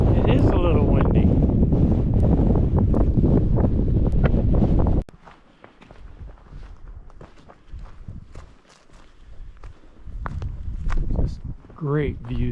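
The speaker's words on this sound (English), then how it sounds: "It is a little windy." Strong wind buffets the microphone on a mountain hilltop overlooking Thompson Pass, a loud roaring rush for about five seconds before easing into lighter, uneven gusts with faint rustling.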